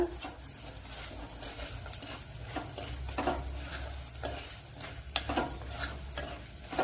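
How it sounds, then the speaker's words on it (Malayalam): Spice powders, including turmeric and asafoetida, fry in oil for lemon pickle, a soft sizzle broken by repeated scraping stirs and light pan clinks, no talking. "അപ്പോഴിവിടെ പൊടി ഐറ്റങ്ങളൊക്കെ ഫ്രൈ ആയി വന്നിട്ടുണ്ട്"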